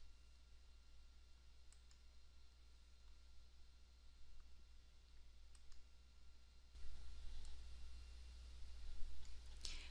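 A computer mouse clicks through a testing manager program, with a few faint, isolated clicks over a steady background hum that rises partway through, no talking.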